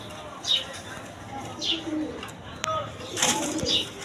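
Rajgolla and satin pigeons kept for sale give a few soft, separate coos spread over several seconds against a quiet background.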